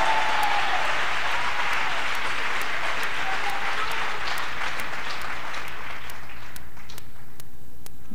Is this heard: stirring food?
no